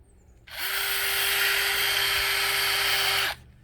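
A power drill fitted with a sanding pad whirs steadily for about three seconds while polishing a car headlight, starting and stopping abruptly, with a high, even buzzing tone.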